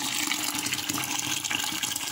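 Water is poured into a cooking pot holding a steamed ram's head during Eid al-Adha cooking, giving a steady, loud rushing splash that fills the whole short moment without talk.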